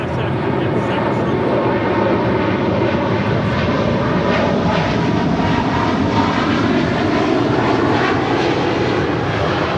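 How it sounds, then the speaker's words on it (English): Air China Boeing 777-300ER departing LAX for Beijing, a loud continuous jet roar filling the whole span with a faint pulsing texture, heard alone without talk. "That was Air China 988 departing to Beijing on a 777-300 ER."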